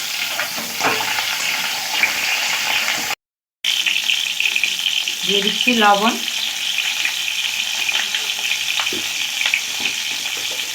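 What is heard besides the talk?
eggs and whole onions frying in a pan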